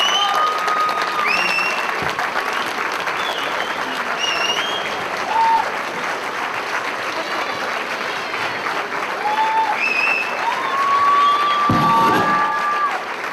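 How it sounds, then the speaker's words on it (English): Standing ovation at a Janta Sewak Society community dinner, loud sustained applause from a large room with cheers, whoops and whistles rising over it for more than ten seconds. "Standing ovation at a Janta Sewak Society dinner"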